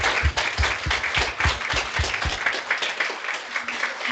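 A members' meeting audience breaks into a loud round of applause, dense clapping over a low crowd murmur, with a few heavier claps near the start before it settles into steady applause.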